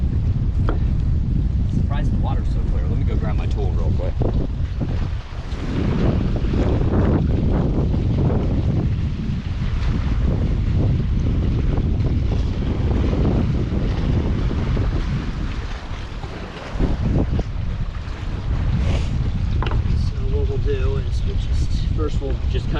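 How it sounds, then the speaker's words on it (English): Strong wind buffets the microphone over open water at a Florida oyster farm, a loud continuous low roar with gusting surges and faint water movement throughout. "It's super windy today."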